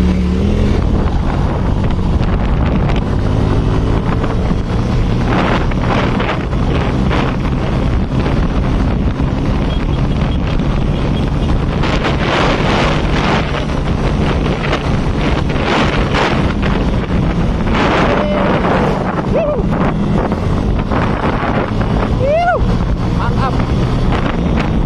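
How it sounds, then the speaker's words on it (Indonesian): A Yamaha X-Ride motorcycle rides along a hot road, its engine droning under loud, constant wind buffeting against the microphone for the whole stretch, with a few brief chirps near the end. "mencoba bolak-balik kendarai motor panas-panasan."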